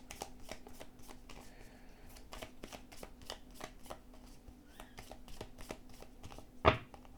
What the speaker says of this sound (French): On va le mélanger bien puisqu'il est neuf.